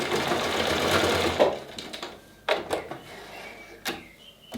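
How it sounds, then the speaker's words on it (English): A sewing machine runs a quick back-and-forward stitch on face mask fabric, with a steady whirring burst followed by a few short clicks and handling knocks as it stops. "Back and forward stitch just to finish off."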